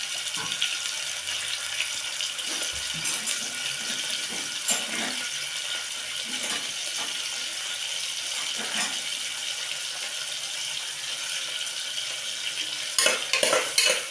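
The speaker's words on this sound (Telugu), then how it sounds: "ఫస్ట్ అయితే అదిగోండి నూనె అయితే వేడైపోయింది. నేనైతే ఇవైతే వేయించుకుంటున్నాను." Something fries in hot oil with a constant close sizzling hiss throughout, broken by a few light scrapes and clinks, with no talk.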